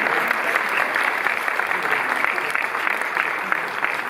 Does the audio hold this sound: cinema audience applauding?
yes